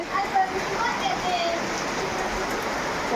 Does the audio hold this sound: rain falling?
yes